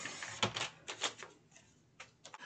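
Scissors or a blade cutting paper for a folio notebook, a few crisp snips and rasping slices in short bursts, close and moderately quiet with no talking.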